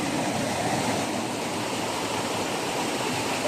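Strong flowing water pours steadily at Kipot Falls, a loud, dense, unbroken rush close by with no voices.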